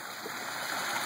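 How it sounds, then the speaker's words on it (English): A backyard pond waterfall runs with a steady, broadband rush of falling water, close and even throughout with no talking. "Of course, the waterfall's running, and we got the skimmer in"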